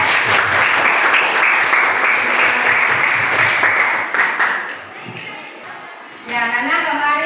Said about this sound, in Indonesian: Beri aplaus buat Hadijah.